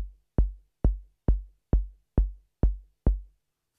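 Kick drum patch on a Korg Volca Drum synthesizer, eight punchy, booming low hits at a steady even pace, each decaying quickly, clean and alone with silence between.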